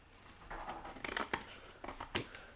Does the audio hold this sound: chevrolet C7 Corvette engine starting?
no